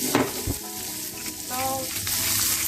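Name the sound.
gambas (prawns) frying in a hot pan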